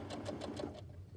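A sewing machine stitching quilt pieces, a rapid run of about five even needle strokes that then stops, close and quiet.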